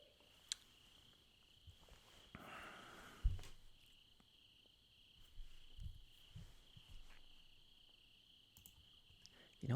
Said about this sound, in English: We should just like sit here and like listen to the crickets.